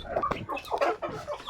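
Chickens clucking while feeding, a string of short close clucks and calls, fairly quiet, with no talking.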